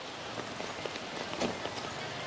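Steady rain patters on a surface at Dipalo River Park, San Quintin, Pangasinan, a continuous wash of soft hiss with scattered drip accents, no voices.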